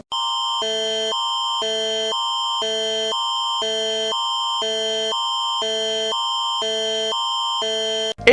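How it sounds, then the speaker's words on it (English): An Amber Alert emergency tone blares from a phone, a loud, harsh two-tone pattern pulsing in steady alternating bursts, roughly two per second, for about eight seconds without a break. "everyone was sent this scary alarm at the exact same time"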